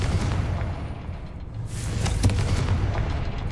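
A Confringo spell explosion in a cavern in the Hogwarts Legacy video game: a loud, dense, roaring blast with a rumbling low end and a sharp crack partway through, filling the whole stretch without talk.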